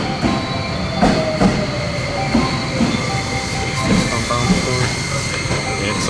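The Sunrise Express sleeper train in Japan pulls away from the platform, heard from on board as a steady rolling rumble with rhythmic wheel clicks and faint squeals, under light talk.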